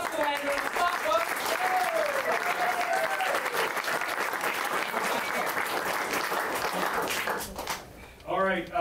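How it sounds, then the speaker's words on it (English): Theater audience applauding a puppet show, a dense sustained wash of clapping with cheers mixed in, loud and steady for about seven seconds before briefly dipping, with a voice rising over it at the end. "let's have a big round of applause for our friend, Justin Andrews."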